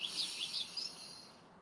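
High, thin bird chirps and trills twittering over a steady background hiss of distant city traffic noise in Stockholm.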